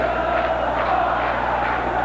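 Flamengo fans chanting together inside the Maracanã stadium at the 1986 Carioca final against Vasco, a steady, far-off roar of massed voices with no breaks and no commentary over it.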